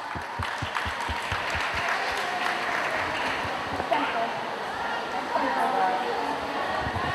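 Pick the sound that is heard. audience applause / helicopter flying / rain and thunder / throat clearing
audience applause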